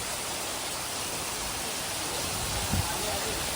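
Heavy monsoon rain pours near a flooded river in Khed. It makes a dense, steady hiss that fills the whole clip, with one brief low thump near the end.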